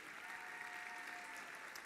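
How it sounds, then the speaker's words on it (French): Steady crowd applause fills a gala hall, an even wash of many hands clapping at moderate distance without a break or any voices. "On peut l'applaudir aussi."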